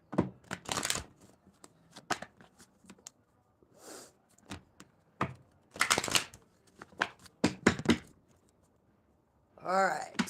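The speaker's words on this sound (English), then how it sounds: "Let me just get some shuffles in." Tarot cards being shuffled by hand, several bursts of riffling and flicking with short pauses between, close and fairly loud, heard alone without talk.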